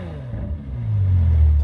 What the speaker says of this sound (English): that exhaust sound. Naturally aspirated V12, it sounds amazing inside and out.